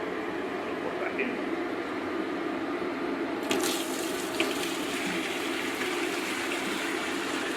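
Tonkotsu ramen broth pours steadily back into a big cooking pot in a continuous liquid rush, which gets brighter and splashier partway through.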